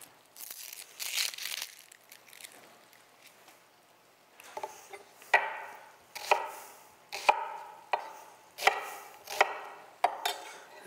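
Knife chopping onion on a board, a run of roughly eight crisp, evenly spaced chops in the second half after quieter scraping and rustling at the start; close and fairly loud, no talking.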